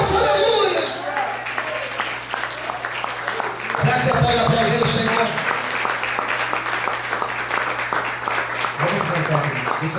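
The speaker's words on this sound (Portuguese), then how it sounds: "Aplaude e exalte ao Senhor bem forte." A church congregation applauds and praises, steady clapping running under loud voices and shouting, with a swell of cheering partway through.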